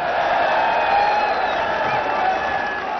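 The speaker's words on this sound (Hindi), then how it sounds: "हाथ उठाकर तालियों की गूंज में बताइए कि कितना जज्बा है आप" A large rally crowd in Lahore claps and cheers in a dense, sustained roar of applause, loud and continuous with raised voices blended into the clapping.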